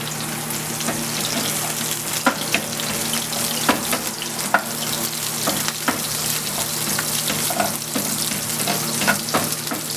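Garlic and red onion fry in a pan for pork stir-fried pancit canton, a steady close sizzle with occasional light clinks of a utensil.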